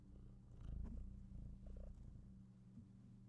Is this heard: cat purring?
yes